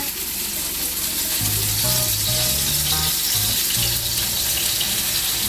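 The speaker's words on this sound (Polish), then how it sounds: "mięso już jest odpowiednio usmażone" Kebab meat sizzles and fries in a pan, a steady close hiss running throughout with some clattering and water-like noise, no talking.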